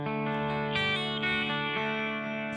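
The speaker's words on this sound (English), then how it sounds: "And then I'm just going to put that in the single coil mode." Kramer SM-1 electric guitar with EMG pickups, switched to single-coil mode through an effects patch, rings out in sustained chords with fresh strums near the start and middle, steady and fairly quiet, with no voices.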